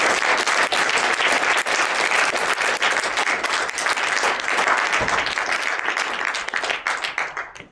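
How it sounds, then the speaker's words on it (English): An audience gives a closing round of applause at a 2012 youth troop event, dense and loud throughout, thinning and tapering off in the final second. "We can have one more round of applause for them,"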